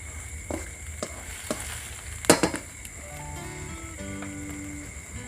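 Squid and long beans stir-fry in a wok with a soft, steady sizzle, broken by a few clacks and a louder clatter of stirring midway, with faint tonal sounds in the background.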